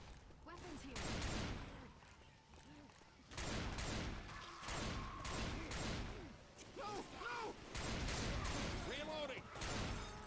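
Rapid bursts of automatic gunfire from a video game weapon, repeated volleys with short pauses, loud and close, with a player talking over parts of it.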